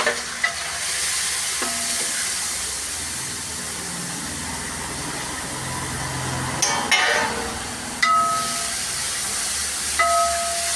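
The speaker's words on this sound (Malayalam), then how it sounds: "അതിട്ടതിന് ശേഷം നമുക്ക് പച്ചമുളക് ഇട്ട് കൊടുക്കാം അതെല്ലാം നല്ലോണം ഒന്ന് വാടി അതിന് ശേഷം നമുക്ക് ഈ ഇടിച്ച മുളക് അതിനകത്ത് ഇട്ട്" Green chillies and crushed chilli fry in oil for an Alleppey-style tomato curry, a continuous soft sizzle with occasional clinks and scrapes of a utensil against the pan.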